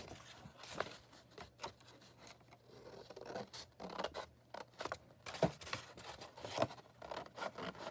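Scissors cutting through hardcover binding material in a series of crisp, uneven snips and scrapes, close and fairly quiet, with short pauses between cuts.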